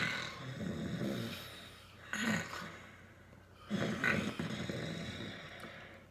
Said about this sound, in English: If you said it was somebody snoring, you are correct.